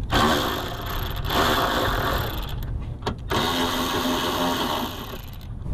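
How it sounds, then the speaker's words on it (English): A Milwaukee M12 cordless ratchet with a short 3/8 extension and 10 mm socket spins off bolts during a clutch pedal rebuild, a loud steady motor whine in two long bursts split by a brief pause. "gonna use the Milwaukee M12 ratchet with a short 3/8 extension and a 10 millimeter socket"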